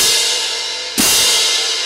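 Crash cymbals struck with all edges meeting together, bright sustained wash that is renewed by a second loud hit about midway, ringing alone up close.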